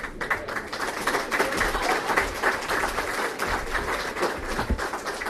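Audience applause at a country club awards event, a dense crackle of many hands clapping at moderate distance, steady and sustained throughout with no voices over it.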